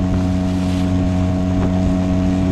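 A motorboat with a new engine runs at full throttle, its steady loud drone and humming tones constant and close, with wind and water rushing underneath throughout.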